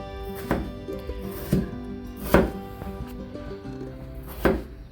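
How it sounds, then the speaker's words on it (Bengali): A knife chops peeled potatoes into small pieces on a cutting board in a home kitchen, several distinct, fairly loud strokes at a slow, uneven pace over a steady background hum, with no speech. "এখন আমি এই আলুগুলোকে কেটে আমি পিস পিস করে নেব।"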